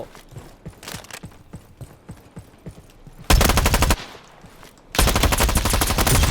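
Gunfire in a Roblox shooting game: scattered single shots followed by two loud bursts of rapid automatic fire, close and dominant, separated by a short pause.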